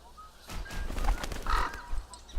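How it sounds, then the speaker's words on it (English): Several crows caw outside a house in a game scene, harsh repeated calls rising over a soft background hum, fairly close and loud with no talking. "Blasted crows."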